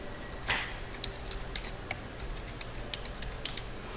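Keyboard keys clicking while a username and password are typed during a Windows Server 2008 install, a faint, sparse run of taps and clicks spread irregularly over a few seconds with no voices.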